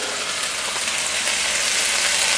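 Vegetables for a cabbage stir fry sizzle in a fryer, a dense steady hiss of frying that swells slightly toward the end, close and without talk.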